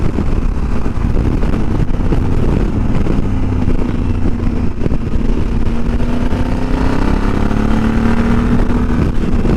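Motorcycle ridden along the A93 ski route in Scotland, a steady engine drone with rising and falling pitch held throughout, loud and continuous with wind rush, no talk.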